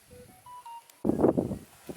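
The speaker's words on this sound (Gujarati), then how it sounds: "અને પિંજુડાને કરો ફોન કરી દઈએ" A phone number is dialed as a short run of distinct beeping tones, one after another, followed by a burst of talking.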